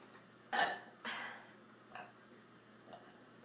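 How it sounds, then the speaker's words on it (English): A woman burps twice in quick succession, both close and fairly loud, followed by two fainter, shorter throat sounds. "It just had to burp."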